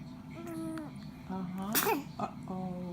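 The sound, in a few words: sneeze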